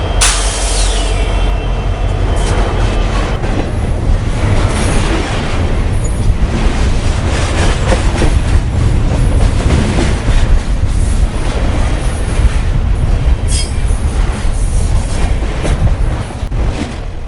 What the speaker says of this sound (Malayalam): പാളത്തിൽ നടുക്കമുയർത്തി ട്രെയിൻ ഉറക്കെ ചൂളം വിളിച്ചു